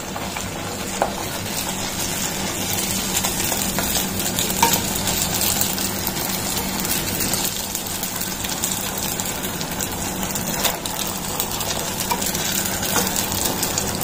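Small panipuri puris deep-frying in hot oil, giving a loud, even, close bubbling sizzle that runs unbroken, with faint crackles scattered through and no speech.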